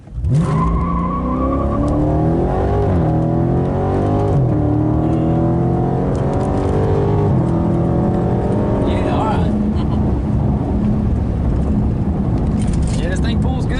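A 2016 Dodge Charger Scat Pack, heard from inside, accelerates hard with its engine roaring through rising revs and paddle-shifted gear changes. Loud and sustained, with occupants talking over it.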